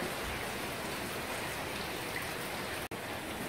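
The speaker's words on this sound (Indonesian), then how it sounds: "Hujan tidak henti-henti kawan." Heavy rain pours down without pause, a dense, even hiss of drops on surfaces that holds steady throughout, with a single brief click near the end and no voices.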